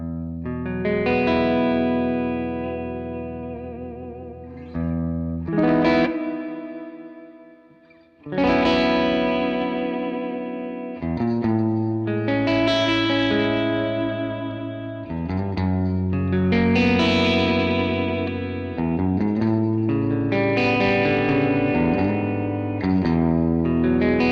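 Sustained, layered instrumental tones run through a long, very wet reverb setting, with notes blooming and washing into one another in swelling phrases, loud and close with no voices.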